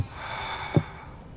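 A heavy breath in the horror game Summer of 58, a low steady airy breathing sound with one sharp snort-like intake near the middle, close and alone.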